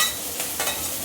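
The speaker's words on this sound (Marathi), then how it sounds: "आणि कांदा चांगला जरा नरम होईपर्यंत परतून घ्यायचा, चांगला करपवायचं नाही." Onion sautéing in hot oil with chillies gives a steady, soft sizzle with faint stirring swishes, close and continuous for about a second, no voices.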